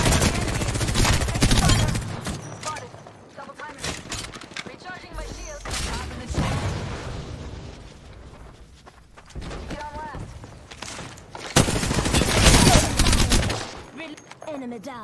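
Rapid gunfire bursts from an Apex Legends fight, close and loud, coming in repeated volleys with short pauses, while voices talk over the shooting.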